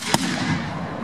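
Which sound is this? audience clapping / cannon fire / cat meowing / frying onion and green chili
cannon fire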